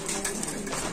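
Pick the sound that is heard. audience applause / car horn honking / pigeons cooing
pigeons cooing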